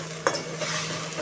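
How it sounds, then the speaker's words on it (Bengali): A spoon stirs ground spice paste frying in a pan for a pointed gourd curry. There is one sharp scrape at the start, then a steady close sizzle with soft stirring scrapes and no talking. "সব মশলাটাকে ভালো করে কষবো,"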